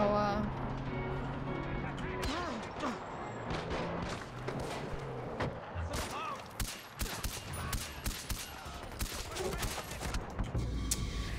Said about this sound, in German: Ich glaube, die schießen auf dich, was?